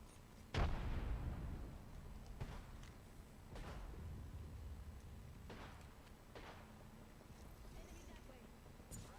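Frag grenade detonating in a video game, a single sharp loud blast near the start followed by a few fainter thuds and bursts, with talk over the action.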